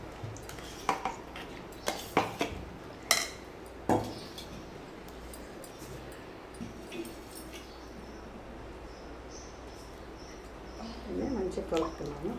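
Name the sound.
stirring sambar with dal and tamarind juice in a pot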